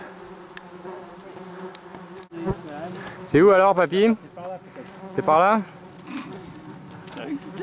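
Flies buzz steadily throughout, with a few louder passes close by, under a man and an older relative talking in French on an outdoor outing.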